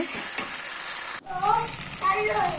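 Onions frying lightly in a pan with turmeric added, giving a steady broadband sizzle with a brief dropout midway, then faint voices and scraping movement over the continuing hiss.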